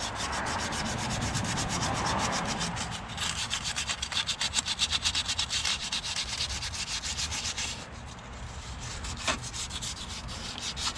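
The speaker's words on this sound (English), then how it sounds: "Take a little bit of sandpaper, just a little bit. You want to clean the surface." Sandpaper scrubs surface rust off a rear part of a 2001-05 Honda Civic, close and continuous, first as smooth strokes and then as rapid rhythmic back-and-forth rubbing.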